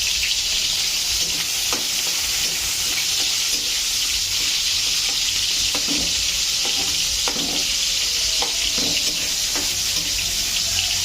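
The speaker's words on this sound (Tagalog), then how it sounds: "So that, lagay natin yung sibuyas. And bawang." Onion and garlic fry in oil in a pan for sautéed cabbage, with a loud, continuous hiss and sizzle up close and scattered scrapes and clinks from stirring, with no talking.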